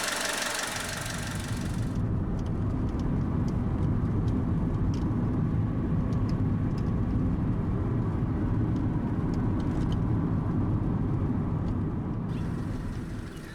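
A fully warmed-up Honda Civic, following a blown head gasket repair, drives along a road with a loud, continuous engine and road rumble that holds steady throughout.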